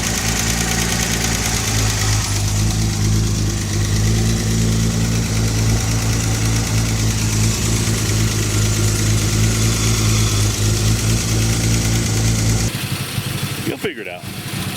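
A Datsun 280Z engine idles steadily with a loud, close, even rumble that continues unbroken for most of the time before dropping to a lower level near the end.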